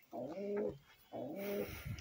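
Two distinct cooing phrases from pigeons kept in a rooftop flock of about seventy birds, each a rolling low call close to the listener, separated by a short pause.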